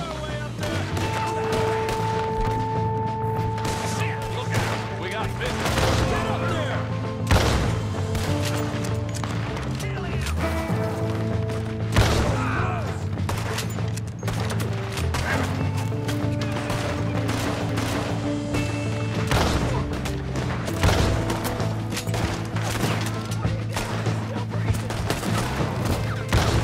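Sustained gunfire from a shootout up a canyon, dense overlapping shots and bursts like a fusillade over a constant low rumble and music, continuing throughout without pause.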